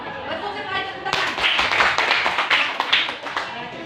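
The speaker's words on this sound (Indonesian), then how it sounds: "Betul sekali, tepuk tangan" A class of students bursts into hand clapping after a short stretch of talk, a dense patter of claps lasting a few seconds with a voice still audible beneath.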